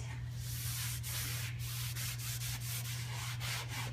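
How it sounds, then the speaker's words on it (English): A clean rag rubs maintenance oil into a maple wood headboard, soft repeated wiping strokes with a steady low hum underneath, close and quiet with no talk. "just rub really well to make sure there's nothing that wasn't absorbed into the wood"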